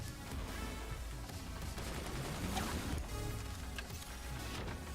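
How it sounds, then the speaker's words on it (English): Mortar fire in Forts, repeated dull thumps and blasts in a dense, continuous din of naval and fort battle noise, steady and moderately loud throughout. "Those mortars are back."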